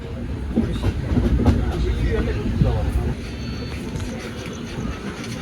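A Karnataka Sampark Kranti express train rumbles steadily along the rails near Hubballi station with rhythmic clattering of wheels, loud and close, while people talk over the noise.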